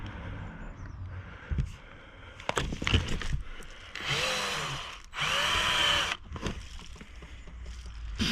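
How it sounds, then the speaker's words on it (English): A power drill whirs in two sustained bursts, boring loudly through a camper van's body for a solar panel fitting, with clattering and knocks of handling in between. "Drilling a big hole"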